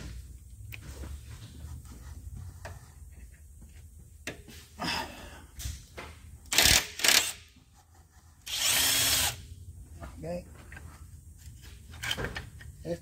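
Power tool with a 13 mm socket removing timing chain guide bolts on a Dodge 2.7 engine, with short loud whirring bursts, one longer, between quieter clinks and handling noises.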